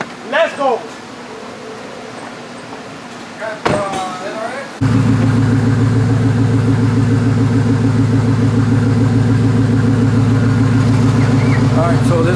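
Twin-turbocharged Shelby truck engine fitted with VS Turbo 6466s, a few short blips and revs before a loud, sustained throbbing run at steady pitch, with brief talk near the start.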